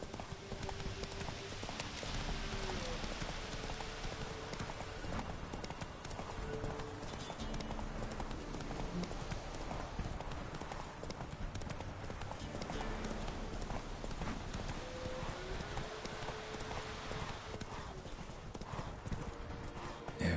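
Roach, Geralt's horse in The Witcher 3, gallops with steady rhythmic clip-clop hoofbeats, loud and close over game ambience and music, with an occasional brief whinny.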